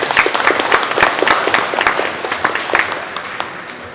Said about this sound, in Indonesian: jadi tepuk tangan untuk UNES ya